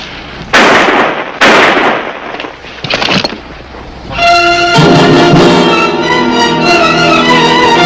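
Gunfire in a western TV shootout: several sharp, loud shots in quick succession at the start, then a dramatic orchestral music sting swells and holds to the end.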